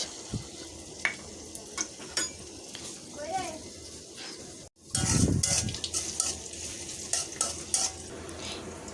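Onions dropped into hot oil in a wok begin to sizzle, with a loud burst partway through, followed by stirring and clinks of a metal utensil against the pan.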